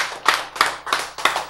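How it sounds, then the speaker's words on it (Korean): Four sharp claps in an even, measured rhythm, fairly close and loud, with a faint low hum underneath, given by a congregation during a Korean church sermon. "박수죠."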